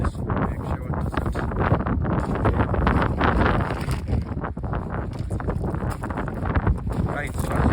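Wind gusting on a beach during sea fishing, buffeting the microphone in a loud rough rumble that rises and falls without a break.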